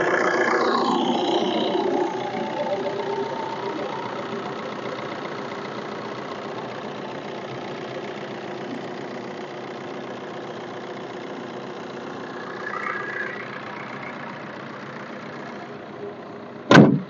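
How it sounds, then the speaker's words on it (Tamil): Just after starting, a Brezza car engine idles with a smooth, steady, low hum that is fairly quiet and close, a little louder in the first seconds, and a short knock sounds at the very end. "இன்ஜின் சவுண்டு கேளுங்க"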